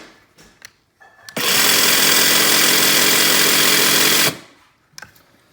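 A Makita cordless hedge trimmer runs at full speed, a steady loud mechanical buzz lasting about three seconds with an abrupt start and stop, framed by faint handling clicks before and after.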